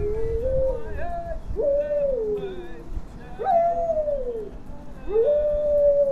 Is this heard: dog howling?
yes